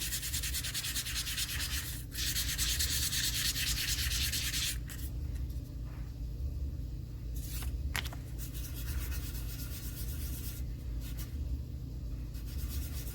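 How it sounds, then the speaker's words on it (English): A polymer clay pendant is rubbed by hand with sandpaper: quiet, rhythmic scratchy strokes run steadily, then continue in shorter bursts after a brief pause, with no voices. "I'll just put the sandpaper in my hand and sand it this way as well"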